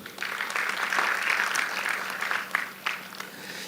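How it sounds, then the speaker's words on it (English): An audience applauds in a hall at a Nigerian youth presidential debate, with steady, fairly loud clapping that swells and then trails off, plus a few sharper claps near the end. "If you're ready, please clap for yourself."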